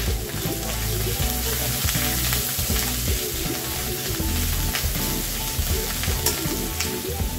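Turmeric powder fries in a pan for a vegetarian khesari lentil dish, a steady close sizzle with stirring scrapes and occasional sharp ticks, no talking.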